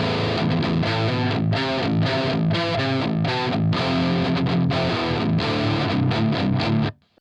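Heavily distorted metal rhythm guitar run through the Crunchman amp simulator in FL Studio, a continuous loud palm-muted chugging riff with rhythmic stops, playing alone before cutting off abruptly at the end.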